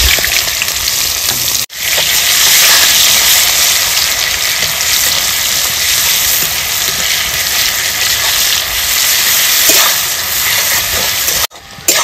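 Loud continuous sizzling as goat fat and chopped onions fry in hot oil with cloves, cardamom and whole cumin for mutton curry, with two brief breaks in the sizzle and no voices.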